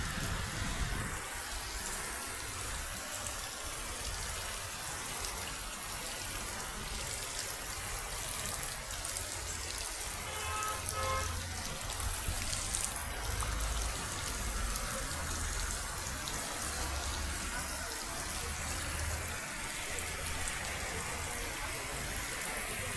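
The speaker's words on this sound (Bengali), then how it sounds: "দেখেন এই দোকানের সামনে প্রচণ্ড বৃষ্টি হইতেছে।" A heavy rainstorm pours in front of a shop, with flowing water adding a dense, unbroken roar that stays loud and steady for over twenty seconds.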